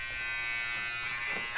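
Wmark hair trimmer running at top speed, a steady high-pitched electric buzz held for about a second and a half, close and fairly quiet, ending with a slight bump in loudness.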